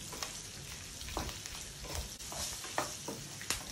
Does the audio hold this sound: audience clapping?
no